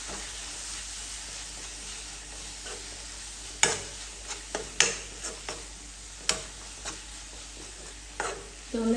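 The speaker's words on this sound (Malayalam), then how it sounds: "ഇളക്കി കൊടുക്കാം കേട്ടോ." Beef masala with garam masala frying in a pan while being stirred: a soft, low sizzle underneath, broken by several sharp scraping and clinking strikes of a utensil against the pan at irregular intervals.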